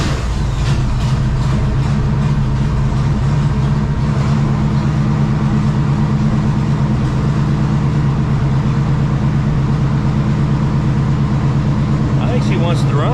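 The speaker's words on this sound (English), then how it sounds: "So we're gonna do a cold start." A car engine after a cold start runs loud and close with a steady low rumble and idle, the pitch shifting slightly as it revs, and a few light clicks near the end.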